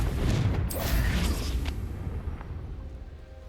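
A Confringo fire spell in Hogwarts Legacy goes off as a deep booming blast with crackling bursts. The boom rumbles loud at first, then fades away over a few seconds.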